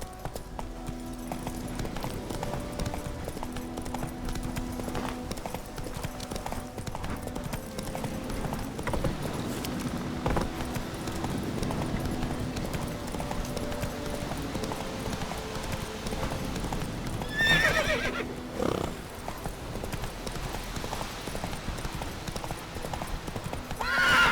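A horse gallops in The Witcher 3: Wild Hunt, continuous close clip-clopping hoofbeats for the whole stretch, with a sharp neigh standing out partway through.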